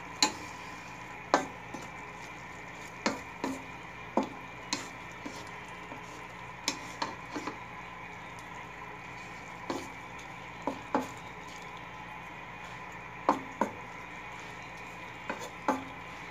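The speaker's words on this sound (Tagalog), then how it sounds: "halu-haluin natin" Boneless milkfish with tofu and black beans being stirred in a pan, with irregular sharp clicks and taps of a utensil against the pan over a faint steady sizzle, no talking.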